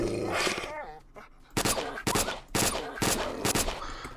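MP5 fire in STALKER: Shadow of Chernobyl comes as several short, loud bursts spaced about half a second apart, following a stretch of talking.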